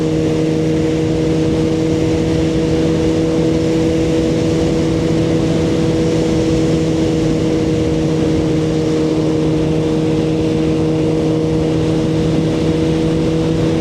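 A Suzuki GSXR1000R motorcycle cruising on a rural road in sixth gear at about 66 mph gives a constant, loud, even engine drone with strong steady tones and no talking.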